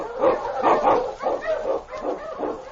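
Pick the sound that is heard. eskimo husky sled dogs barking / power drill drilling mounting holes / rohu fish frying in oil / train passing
eskimo husky sled dogs barking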